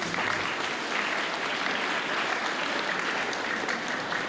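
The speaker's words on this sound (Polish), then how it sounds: "Wielkie brawa za Was." Sustained, dense applause from an audience at a primary school year-end ceremony in Łowicz, steady and fairly loud throughout with no speech over it.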